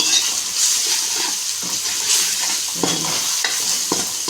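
Egg tomato pulao masala with pepper powder stirred in a pan: a constant hiss of frying under repeated scraping and clinking of the spoon against the pan, close and steady, with no talk.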